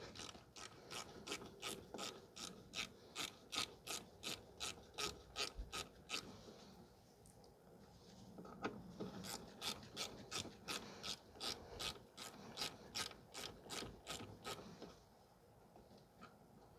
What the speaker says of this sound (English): We're just going to loosen the mounting bolt.